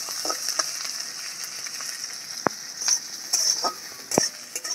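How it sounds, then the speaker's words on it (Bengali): Onion, garlic and four dried red chillies frying in hot oil in a wok give a steady, bright sizzle throughout, broken by a few sharp spatula scrapes and clicks; nobody speaks. "আর দেবো 4টে শুকনো লঙ্কা। এগুলো একটু ভেজে নেব।"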